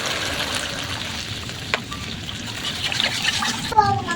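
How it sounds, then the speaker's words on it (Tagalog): Water is poured into a pan of sautéed tomato sauce for tilapia pochero, giving a steady sizzling hiss and trickle with a sharper splash near the end, close and fairly loud, without talking. "Kapag nagisa na yung ating tomato sauce, maglagay na tayo ng tubig."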